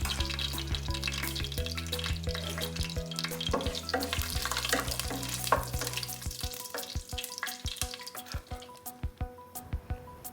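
Cinnamon, cloves and cardamom sizzle steadily in hot oil, a close and continuous crackling fry that carries on for the whole stretch, with a low hum under the first half and scattered clicks and pops later, without any talking.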